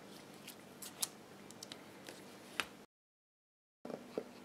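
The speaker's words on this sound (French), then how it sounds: "une seconde découpe du ruban" Close, crisp snips of scissors cutting ribbon, several quick clicks and cuts, followed by a brief gap and a couple more faint snips and handling noises.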